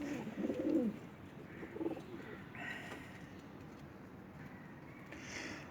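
Pigeons give soft, low coos in short bursts near the start and again around two seconds in, over a quiet ambient background with faint higher chirps.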